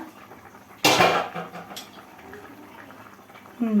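A lid lifted off a pot of simmering light Katla fish curry with pumpkin bori and winter vegetables: one sharp, loud metallic clatter up close, followed by soft bubbling, with a faint voice near the end.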